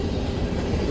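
A freight train rolls past at the 225 mile marker on the Cleveland subdivision near Huron and Vermilion, Ohio, giving a steady, loud, close rumble with no voices.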